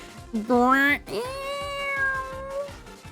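Inkay, a squid-like Pokémon in Pokémon Ultra Moon, uses Disarming Voice: a pair of high, wavering cat-like cries, the first short and rising, the second longer and sliding down, over soft game music.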